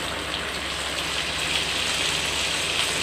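Garlic sizzling in wood-pressed oil in a pan, a steady dense crackling hiss that stays close and even throughout with no talking.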